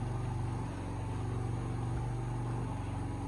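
A sewing machine runs steadily, stitching kimono dress sleeves together, a continuous mechanical hum with dense low rhythmic pulsing throughout, close and fairly loud with no talk.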